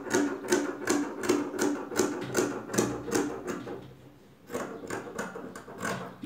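Scissors slowly cutting through folded fabric for double-strap panties, giving a steady series of crisp, evenly spaced snips up close with a brief pause midway.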